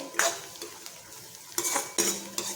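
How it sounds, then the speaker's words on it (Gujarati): Onions sautéing in a pan while a utensil stirs them, a few distinct scraping clinks over a soft close sizzle. "આપણી ડુંગળી સરસ સતડાઈ ગઈ છે"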